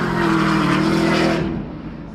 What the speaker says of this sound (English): waiting Todd Treffert in the GT2 RS, and he goes.